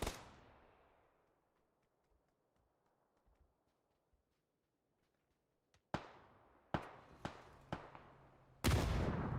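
Gunfire in the battle royale game PlayerUnknown's Battlegrounds: one loud shot fading into a long echoing tail, quiet faint pops, then a cluster of five sharp close shots and a final heavy blast.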